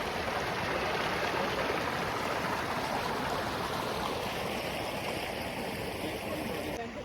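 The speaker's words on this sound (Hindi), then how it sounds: "तो ये जो डेंथलन फॉल है, इसका यहाँ से ओरिजिन स्टार्ट हो रहा है।" A rushing stream at the source of Dainthlen Falls in Cherrapunji, Meghalaya, where water gathers from many small lakes, pours in a dense, steady broadband roar close by, unbroken for the whole stretch with no voices.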